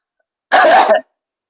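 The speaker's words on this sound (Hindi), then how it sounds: "खांसी थोड़ा हो गया, सॉरी" A single short, harsh cough bursts out in the middle of silence, loud and close.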